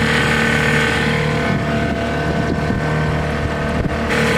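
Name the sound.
1979 Johnson 6hp outboard motor running on boat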